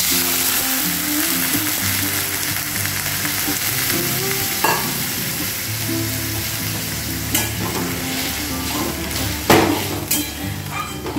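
Water poured into a pan of frying potato and onion sets off a loud, steady sizzle with occasional sharp clinks of a utensil against the pan.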